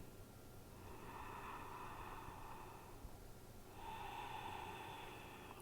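Slow, deep yoga breathing, two long airy inhales or exhales close to the microphone, soft and steady with a brief pause between them.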